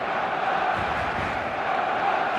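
A stadium crowd in the eFootball video game roars steadily before kickoff, a dense, even wash of cheering and chanting that stays loud throughout.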